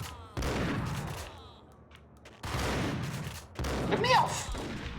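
Gunfire from the Max Payne video game: bursts of shots in several clusters, some in slow motion, with a chaotic, loud mix of thumps and rattling over continuous game noise.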